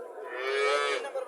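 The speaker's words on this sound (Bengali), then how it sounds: "বাছুরটা সার বাছুর, ফ্রিজিয়াম জাতের বাছুর।" A Friesian breed calf at a cattle market gives a single drawn-out moo lasting over a second, close and clear with no talk over it.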